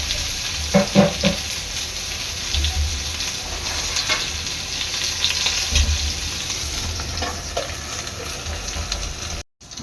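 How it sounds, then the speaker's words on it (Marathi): Okra frying in a covered pan on low gas, a steady soft sizzle running throughout with a few brief louder crackles and spatters, no voices. "आत्ताकडे जी भेंडी आहेत ना लो गॅसवर चांगली सात ते आठ मिनटं झाकण देऊन शिजवून घ्यायची आहे"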